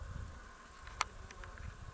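Insects buzz and chirp faintly in a wet, flowering natural summer meadow in Gironde, a soft steady high trill with a single sharp click midway and a few brief buzzing notes.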